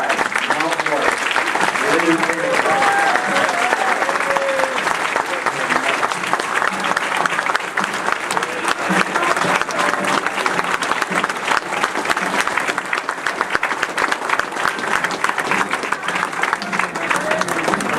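A hall audience gives a long, loud, steady round of applause and cheering for the 1984-85 Mount Morris girls softball team at a Greater Flint Area Hall of Fame induction, with voices mixed into the crowd.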